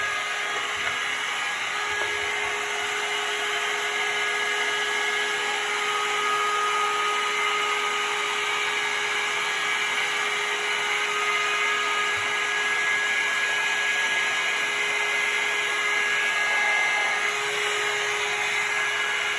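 A hair dryer-like styling tool drying and curling a section of hair runs as a steady, close whine with a constant high tone, continuous throughout with no talking.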